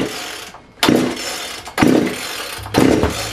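Ported 42cc Poulan Wood Shark chainsaw engine firing into three loud bursts of revving with brief cut-outs between them, close and harsh.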